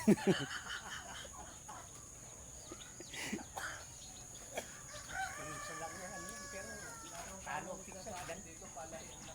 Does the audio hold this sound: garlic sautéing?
no